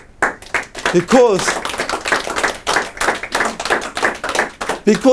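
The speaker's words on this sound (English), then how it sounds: "Let's give yourself a round of applause." A seminar audience breaks into dense, steady clapping, a loud round of applause with a voice briefly speaking near the start.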